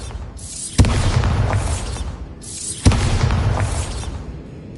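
Two loud, close explosions from the Bombarda spell in Hogwarts Legacy, each a sharp crack swelling into a deep boom with a crackling, debris-like tail, about two seconds apart and free of talk.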